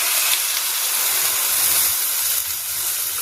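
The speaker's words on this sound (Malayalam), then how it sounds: "ഇത് വേവാൻ ആവശ്യത്തിനുള്ള വെള്ളം കൂടി ഒഴിക്കാം കേട്ടോ." A steady, loud hiss with sizzling noise as water is poured into a hot pan of cassava leaf avial, continuing evenly throughout with no voices.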